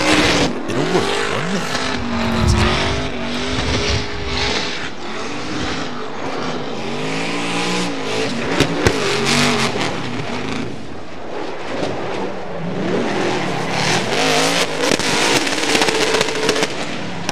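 Drift cars compete at a Formula Drift event in Seattle in 2024, with loud, continuous revving engines rising and falling, screeching tire squeals and sharp popping bursts close by.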